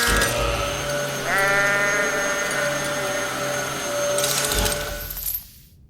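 A goat bleating effect plays as a goat man is transformed, a loud wavering bleat rising out of a dense mechanical whir and hum before the sound cuts off abruptly.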